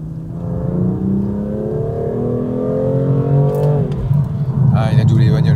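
A motorcycle engine drones steadily and rises in pitch as it accelerates past cars, overtaking them, with a voice talking over the motor noise.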